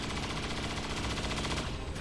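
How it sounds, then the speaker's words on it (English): Sustained suppressing gunfire in the video game XCOM 2, a loud rapid automatic burst of closely spaced shots rattling continuously for about two seconds, with no voices over it. "Suppressing fire on target."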